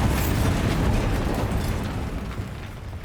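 A Bombarda blasting spell goes off in the Hogwarts Legacy video game: a loud, dense explosive burst that fills the start and then rumbles and fades over about three seconds.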